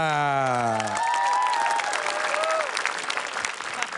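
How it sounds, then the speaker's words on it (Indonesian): Audience applause at an Indonesian television talk show, a broad steady wash of clapping filling the room after a fading musical tone, sustained and fairly loud throughout. "Boleh kasih tepuk tangan yang meriah lagi untuk Dela."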